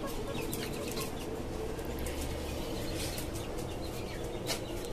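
Caged free-range indigenous chickens on a poultry farm cluck steadily with scattered higher calls and occasional wing flaps, a dense continuous flock noise with no talking.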